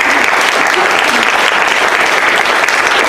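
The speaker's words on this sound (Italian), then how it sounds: "che vi prego di applaudire." Sustained, loud applause from a theater audience greeting two readers at an evening literary event in Naples, a thick, even roar of clapping throughout.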